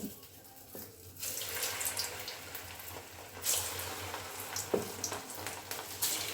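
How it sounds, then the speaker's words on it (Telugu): Small jonna (sorghum) punugulu dropped into hot oil, a loud, continuous sizzle and hiss with bursts of crackling as the batter hits the oil, close up and with no talking. "నూనె అయితే మస్తు వేడైంది ఇంకా చిన్న చిన్నగా పునుగులు అయితే వేసుకోవాలి"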